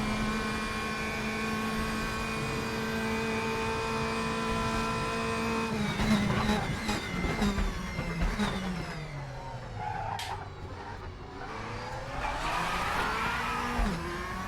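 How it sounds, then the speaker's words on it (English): A BMW M4 race car in the RaceRoom racing game drones at steady revs, then shifts and revs hard with rising and falling pitch and brief tire squeal, close and loud with no talk. "Ah, this is the old BMW M4, isn't it?"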